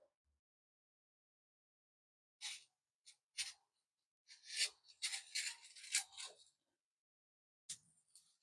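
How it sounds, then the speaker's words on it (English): A paper trimmer blade slices the excess paper off the edge in a few short, crisp scraping strokes, close and quiet, with pauses of silence between the cuts. "And I'm going to trim all the excess that I have on the side there."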